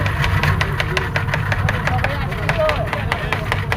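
A speedboat engine running steadily near Sandwip island in Bangladesh, a loud throbbing drone with a fast regular pulse, close, under a talking voice.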